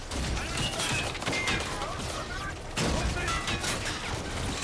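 Enemy gunfire in the video game Call of Duty: Infinite Warfare: steady, loud bursts of shots and crackling impacts fill the whole stretch, with a sharper surge of firing midway.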